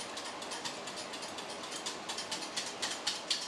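Egg and lemon mixture being whisked by hand as stock is slowly poured in, a steady rapid clicking of the whisk against the bowl that grows a little louder toward the end, with no talk.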